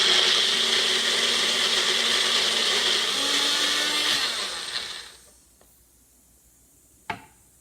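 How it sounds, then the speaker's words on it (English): A kitchen blender grinds pav bhaji ingredients with water, a loud steady whir that runs for several seconds, then winds down and stops, followed by one sharp clack. "And let's mix them together in the blender or jar."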